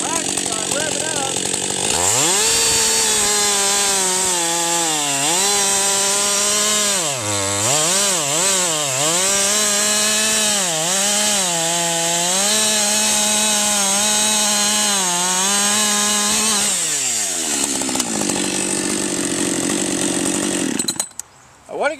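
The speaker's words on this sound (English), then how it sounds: "so I go ahead and I rev it up before I actually start cutting in to the wood" A Husqvarna 562xp chainsaw running on 32:1 fuel mix is revved up before cutting into wood. The loud, close engine rises and falls in repeated throttle surges over about fifteen seconds, then drops back to idle.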